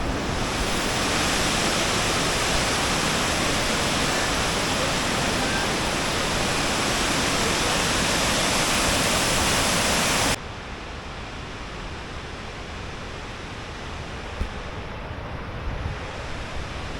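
A waterfall pours into a fjord or lake, a steady loud broadband roar that abruptly drops to a softer, more distant rush partway through.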